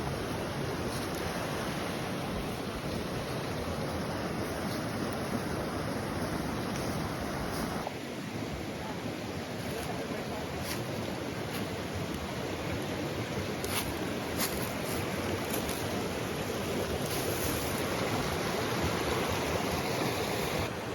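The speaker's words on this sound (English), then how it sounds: "Got our own private waterfall." Constant rushing roar of a waterfall nearby on Wheeler Peak, New Mexico, a dense unbroken wash of sound that stays loud and even throughout.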